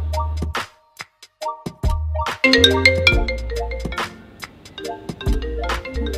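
A phone call placed from an Apple Watch using a Viettel 4G eSIM rings out as a loud, close melodic ringtone of repeated tonal notes in short phrases with brief pauses.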